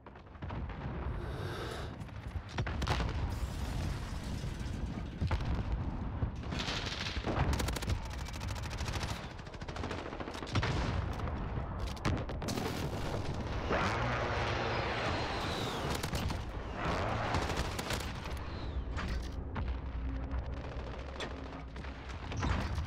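Rapid bursts of gunfire and explosions from a Modern Warfare online match, with an MP5 among the weapons, come thick and loud across the whole stretch, with dense overlapping shots and booms throughout.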